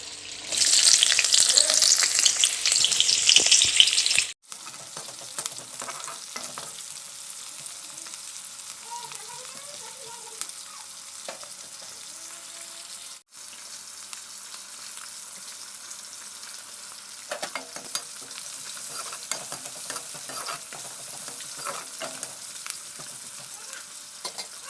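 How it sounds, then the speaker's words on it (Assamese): Oil heating in a kadai before fish frying crackles loudly at first, then settles into a quieter, faint sizzle with scattered small pops and occasional utensil knocks. "এখন কেৰাহীত তেল গৰম কৰি ল'লোঁ"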